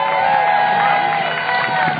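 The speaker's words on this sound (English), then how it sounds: "And another round of applause for Venice High School and its 100th anniversary." A crowd at a Venice Beach event celebrating Venice High School's 100th anniversary bursts into brief, loud cheering and whooping, a dense wash of voices lasting about two seconds.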